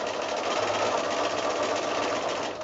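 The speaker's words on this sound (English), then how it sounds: "I'm sewing right on that second line that we've drawn" A sewing machine stitches quilt fabric along a drawn line on a snowball quilt block, its steady whirring hum running close and continuous throughout with no talk.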